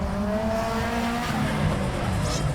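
A car circles a cone on a FormulaG track, its engine droning steadily while the tyres squeal and skid, loud and sustained, with no voices.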